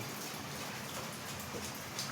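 Rain falls through a leaking roof into a toilet room, a dense, steady patter of drops hitting surfaces, faint and continuous without talk.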